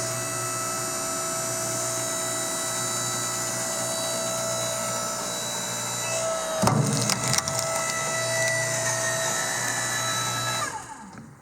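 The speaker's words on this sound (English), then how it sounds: "It's typical electric whine, so it's not very loud, but it's definitely faster than doing it manually." A Sun Joe LJ602E electric 5-ton wood splitter runs with a steady, moderately loud motor whine, then a sharp crack and splintering as the log gives way, the hum continuing before cutting off.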